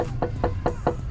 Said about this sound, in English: Knock on Dodo